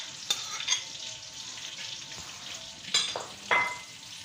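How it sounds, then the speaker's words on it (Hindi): Onions frying in oil in a wok give a steady, close hiss of sizzling, broken by a few brief louder bursts of stirring. No one speaks. "प्याज डाल के हम भूनने लगे हैं।"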